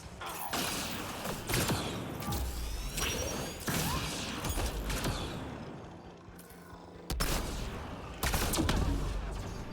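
Bursts of futuristic gunfire in a sci-fi video game, with armor-piercing shots punching through energy shields; several loud volleys arrive in clusters with mechanical clatter and whooshes between them.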